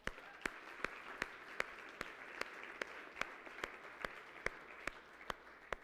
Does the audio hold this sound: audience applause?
yes